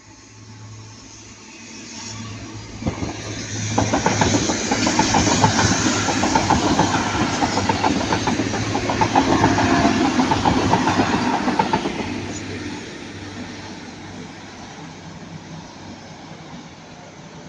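A Class 185 diesel train passes at Ardwick, rising from a low hum into a loud rumble with rhythmic clickety-clack of wheels over rail joints, then fading away with a lingering low engine drone.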